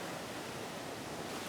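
Ocean waves roll onto a long, clean, gently sloping beach at San Pancho, heard as a steady, dense wash of surf noise with no distinct breaks and no voices.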